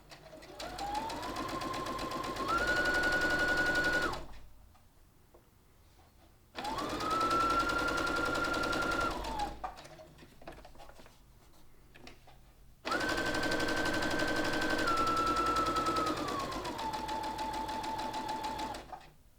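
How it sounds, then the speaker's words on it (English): A sewing machine stitching fabric party bunting flags runs in three steady whirring bursts with short quiet pauses between them, close and alone. "line up your pair and start sewing your second one"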